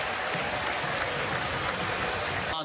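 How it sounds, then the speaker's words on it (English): Dense, steady applause from a boxing crowd fills the whole stretch after a bout between Andre Burton and Devon Alexander, loud and continuous before cutting off abruptly at the end. "I'm clapping. I'm clapping."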